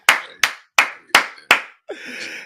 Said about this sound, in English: Yo, I had to give you the physical in-person clap